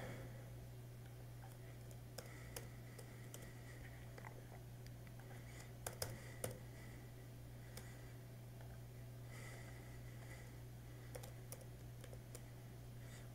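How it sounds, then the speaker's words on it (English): Someone types a code on a computer keyboard with faint, sparse key clicks spaced irregularly over a steady low electrical hum, with a small cluster of taps near the middle. "what I'm going to do is type in that code."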